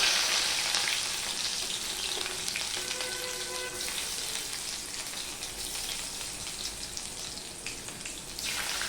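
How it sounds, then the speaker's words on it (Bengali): Chopped garlic and panch phoron (five-spice) frying in hot oil as the base of a masala ivy gourd (kudri) dish, a steady, loud, close crackling sizzle that holds for the whole stretch with no talking. "রসুনটা দেখো কিছুটা ভাজা হয়ে গেছে"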